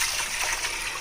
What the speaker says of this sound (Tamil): 1/2 கப் மாவுக்கு 1 கப் தண்ணி ஊற்றிருக்கீங்க